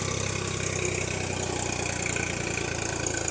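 A 2005 Sonalika 55 DI tractor engine idles nearby with a steady, throbbing low rumble and a constant mechanical chug.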